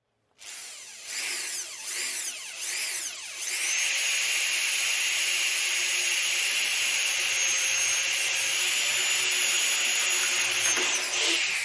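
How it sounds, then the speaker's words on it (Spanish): A 7/64 inch drill bit bores through aluminium and then steel, starting with a few short whining bursts before settling into one long, loud, steady high-pitched grind close by, with no talking. "con la misma broca 7/64 de pulgada, perforaré tanto el aluminio como el acero"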